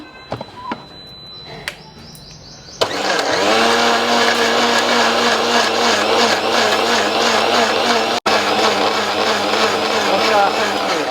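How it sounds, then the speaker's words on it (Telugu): A few faint knocks and clicks, then an electric mixer grinder, set up outdoors, whirs loudly and steadily with a high whine, briefly cutting out near the end. "సౌండ్ మళ్ళీ మిక్సీ సౌండ్ ఇక్కడ బయట పెట్టుకున్నా"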